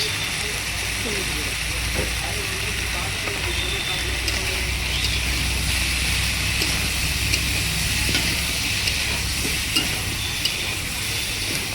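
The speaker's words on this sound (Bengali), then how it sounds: "হলুদটা দেওয়ার পরে আরও এক মিনিট ভালো করে ভেজে নিই" Spices with turmeric fry in oil for a rohu fish curry, a steady close hiss and sizzle with soft stirring scrapes, continuous and even throughout.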